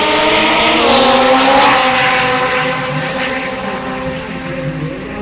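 A drag racing car at a shootout event screams down the track, a loud, sustained high engine roar that fades slightly as it pulls away into the distance, with no talk over it.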